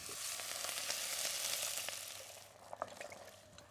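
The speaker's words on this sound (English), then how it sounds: "so it's time to get in there with some stock." Stock poured into a hot pan of lamb shank base with thyme for shepherd's pie, giving a steady, close broad sizzle that swells then eases, with a few small pops and clinks near the end and no talk.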